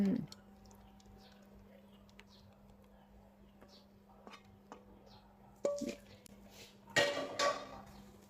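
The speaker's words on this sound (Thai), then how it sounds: "เราตักใส่จานแล้วเทใส่จานกันเลย" Stir-fried basil pork balls are scooped from a pan and poured onto a plate: scattered clinks and scrapes of a utensil against cookware, growing louder near the end, over a steady low hum.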